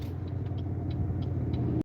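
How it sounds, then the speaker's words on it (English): Steady low road rumble of cars going by at a junction during a driving lesson, moderately loud and continuous with faint higher ticks, no talk, ending abruptly. "we're just going to wait till these cars go by"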